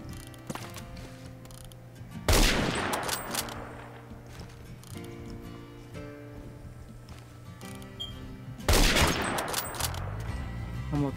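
An unsuppressed Intervention sniper rifle in Roblox Phantom Forces fires two loud, sharp shots several seconds apart, each ringing out over a quieter game background.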